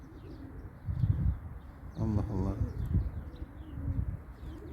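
Domestic pigeons give low, throaty coos in a few separate bursts close by, while someone briefly speaks between them.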